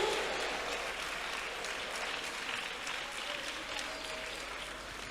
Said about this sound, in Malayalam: കൈയടിച്ച് ഉറക്കെ സ്തോത്രം പറ